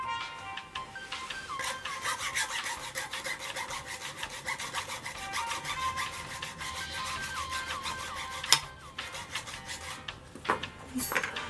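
A hand saw cuts through a brand-new golf ball in a steady run of rapid, rasping back-and-forth strokes. The sawing is fairly quiet and close, with a couple of sharp knocks near the end.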